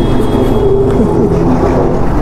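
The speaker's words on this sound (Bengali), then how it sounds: "এই তো ট্রাম চলছে" A tram runs along a street in Kolkata, producing a loud, steady, close-up rumble with a continuous low drone and no pauses.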